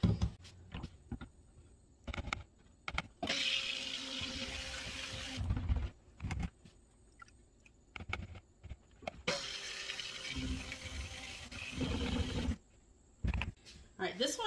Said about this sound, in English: Now I'm going to add the lye water to this one and blend it